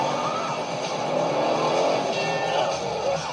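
Inspector Gadget's Gadgetmobile tearing along in a 1999 Disney movie trailer: a loud, steady rush of engine roar and tire noise that swells slightly midway and holds for a few seconds.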